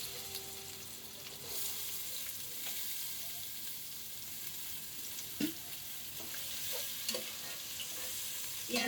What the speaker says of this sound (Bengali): আমি প্রথমে কিছু পেঁয়াজের বেরেস্তা করে নিব।